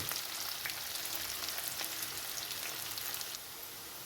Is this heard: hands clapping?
no